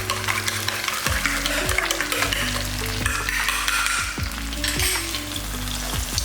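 Eggs sizzle steadily in a frying pan while a utensil stirs and scrapes them in repeated strokes, close and fairly loud.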